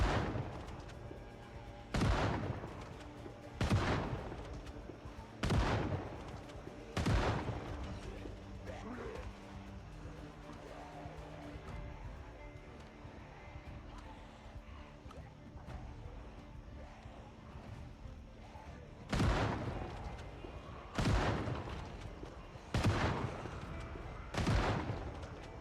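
Shotgun blasts in Project Zomboid, loud single booms in a slow series, four early then a gap and four more, with quiet game ambience between.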